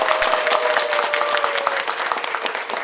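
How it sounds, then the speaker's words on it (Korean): Applause from the audience at a Won Buddhist mind-study talk concert, dense and steady clapping filling the hall for a few seconds, fairly close, with a faint sustained tone underneath and no speech. "서로 큰 박수로"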